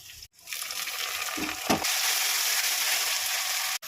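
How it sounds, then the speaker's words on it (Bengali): Spice paste sautés over the fried onions for chicken biryani, a loud, continuous close-up sizzle with brief stirring scrapes near the start. "পেঁয়াজটা ভাজা হয়ে গেছে, এবার আমি মশলাটা কষিয়ে নেব"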